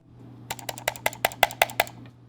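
Someone types on a Womier GamaKay K87 mechanical keyboard fitted with NovelKey Cream switches, making about ten crisp keystrokes in a quick, even run that sound close and clear over faint background hum.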